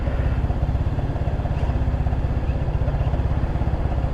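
A GY6 150cc scooter engine idles steadily with a new aftermarket exhaust, a close, even, low putter with a rapid regular pulse and no revving throughout.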